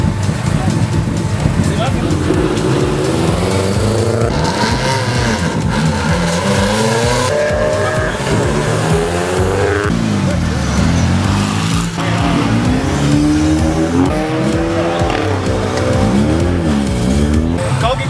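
A race car starts up with a loud, rough engine roar and squealing tires, sweeping engine tones rising and falling throughout, with voices mixed in.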